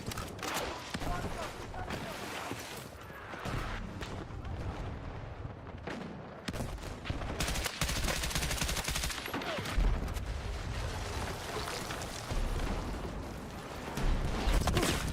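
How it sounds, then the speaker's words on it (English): Rapid unsuppressed gunfire in Battlefield 6 fills an indoor firefight, dense bursts and overlapping shots continuing loud and steady throughout, with a voice speaking beneath the din. "my teammates are firing unsuppressed in here like absolute buffoons"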